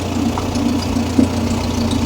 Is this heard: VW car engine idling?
yes